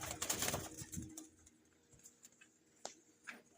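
A breeding pair of pigeons in a loft, with soft fluttering and shuffling at first, then quieter scattered ticks and faint cooing, heard close.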